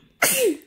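A single short, breathy sneeze bursts out up close, ending in a brief vocal tail.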